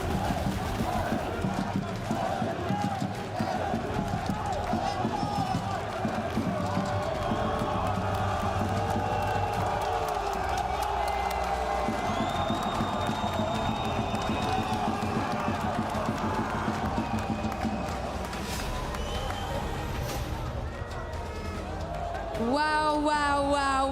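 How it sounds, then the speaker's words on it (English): A packed esports arena crowd roars and cheers steadily through a Call of Duty match, dense and loud throughout, with a commentator's voice running over the din. "What a noise, what a crowd"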